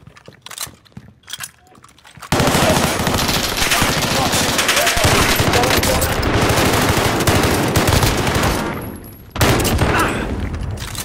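Automatic gunfire in a shooter video game rattles in a loud, sustained burst lasting several seconds, dips briefly, then resumes, after a few scattered shots at the start.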